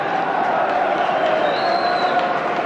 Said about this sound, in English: A cheer from the Sheffield United supporters as Colin Morris comes back onto the field of play